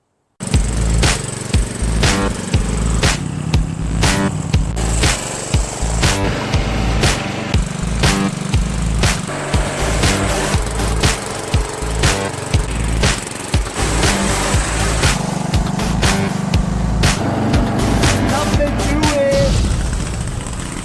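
A John Deere JS63 self-propelled walk-behind lawn mower engine runs loud and close with a steady drone, broken by scattered clattering knocks.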